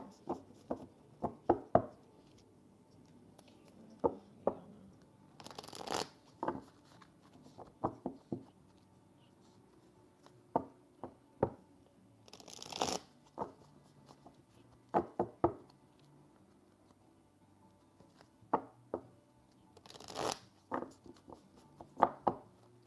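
Cards are shuffled in short bursts: quick riffling rushes and soft taps, repeated at intervals with quiet pauses between.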